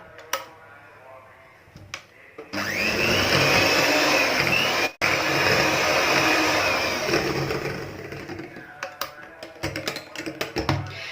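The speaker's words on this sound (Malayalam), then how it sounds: "ഇനി ചെയ്യേണ്ട ഇത് ഇത്രയും കൂടെ ഒന്നുകൂടി ഒന്ന് നമുക്ക് നന്നായിട്ട് ബീറ്റ് ചെയ്തിട്ട് എടുക്കാം" An electric beater whips a homemade choco bar mixture with vanilla essence, giving a steady close motor whine for about five seconds. It is framed by scattered clicks and clatter, with some talk around it.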